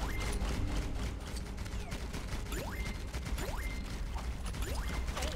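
Cannons boom and rapid bursts of gunfire crackle through LEGO The Incredibles gameplay, dense and continuous, with game effects sweeping over the barrage.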